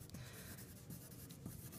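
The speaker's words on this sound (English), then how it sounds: "I'm going to write my name on my paper" Pencil scratching across paper as a name is written during an art lesson demo, a soft continuous scraping with small rhythmic strokes, close and quiet.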